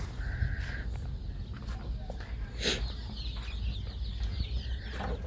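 Young layer and native hens cluck and murmur steadily inside a brooder box against a constant hum of background noise, with a few brief scratchy rustles, moderately loud and nearby.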